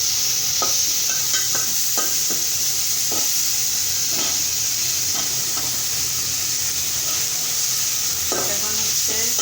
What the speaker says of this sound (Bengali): আদা ভাজা হয়ে গেছে, রসুন পেঁয়াজ সব।